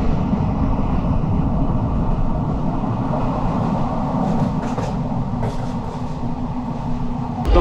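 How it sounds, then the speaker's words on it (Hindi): A passenger train at a station in Jharkhand rumbles loud and steady throughout, with a dense low roar and occasional faint metallic clatter from the cars. "अभी ट्रेन आ चुका है, तो चलिए चलते हैं कुछ नया सफ़र में"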